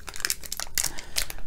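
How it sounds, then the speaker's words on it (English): Scissors cut open the plastic package of a watermelon cannabis chew, giving close, busy crinkling and rustling of wrapper material with short tearing snips, no voices. "So look at me getting all smart using scissors now."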